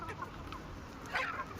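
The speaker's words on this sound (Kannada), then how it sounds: "ಇದು ನೋಡ್ರಿ, ಒಂದು ಕೋಳಿ" A desi country chicken on a farm gives a few short, soft clucks over quiet background noise, with a slightly louder cluck near the end.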